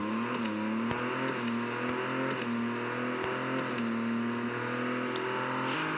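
A Koenigsegg One:1 supercar accelerates hard, its engine note climbing steadily and dropping briefly at a few gear shifts, loud and close throughout.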